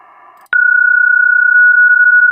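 A steady, unbroken PSK31 digital-mode radio tone switches on abruptly after a brief murmur and holds loud and constant to the end.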